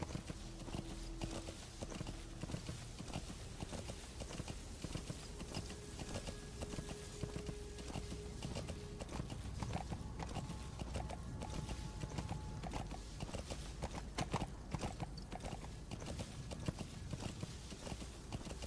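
Hooves of a galloping horse in the video game Metal Gear Solid 5 clip-clop in a rapid, continuous rhythm, faint and steady with game ambience and soft tones underneath.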